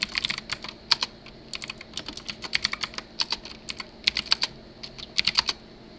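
Close-up keyboard typing in quick clustered bursts of clicks separated by short pauses, with no talking.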